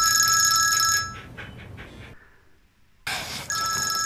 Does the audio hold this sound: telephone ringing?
yes